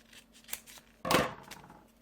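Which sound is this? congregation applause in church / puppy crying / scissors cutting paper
scissors cutting paper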